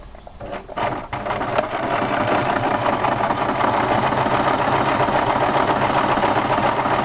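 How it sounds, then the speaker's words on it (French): A sewing machine runs a topstitch near the edge of a zipper on a flat pouch, starting with a few clicks before settling into a loud, steady, rapid mechanical whir close by. "je vais venir faire une surpiqûre à l'intérieur, le plus près du bord de la fermeture"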